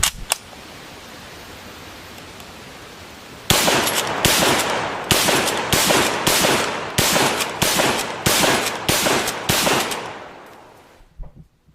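A .303 rifle fired rapidly at a range: after a few seconds of quiet, roughly ten loud, sharp shots crack out in quick succession, each with a short decay, then the sound fades.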